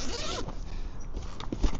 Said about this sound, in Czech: Je to na zip.